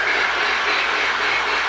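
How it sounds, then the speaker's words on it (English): A Marx mini 999 toy train locomotive with a powered O-scale tender hauls a heavy string of cars, giving a steady, continuous whirring hum close by, with no voices. "it's a decent little puller. That's quite a heavy train."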